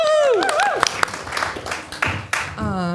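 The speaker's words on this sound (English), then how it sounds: "Round of applause for" An audience at a comedy show applauds in a brief scattered burst of claps, framed by a voice at the start and end of the moment.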